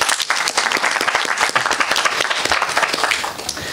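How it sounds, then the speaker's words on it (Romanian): Applause fills a local council meeting in Livezi, a dense sustained clapping from a room full of people that holds steady and then tapers slightly at the end. "Puteți aplauda."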